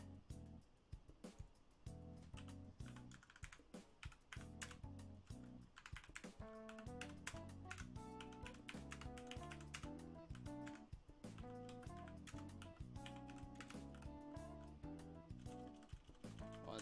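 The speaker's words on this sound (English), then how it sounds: "I don't like typing on chat" Fast, continuous typing on a computer keyboard during a Persona 5 game stream, with dense, close clicking keystrokes in an uneven rhythm throughout and no speech.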